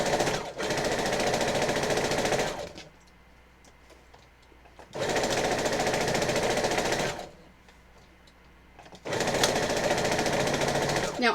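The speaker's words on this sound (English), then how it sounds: "And sew the pieces." A sewing machine chain-stitching quilt pieces for a horror-themed quilt runs in loud, steady mechanical bursts of about two seconds each, broken by quieter pauses while the fabric is repositioned.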